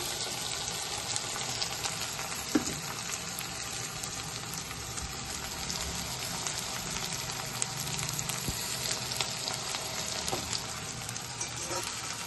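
Chopped green chillies fry gently in a pan, a faint, even crackling sizzle running steadily throughout with occasional tiny pops, no voices.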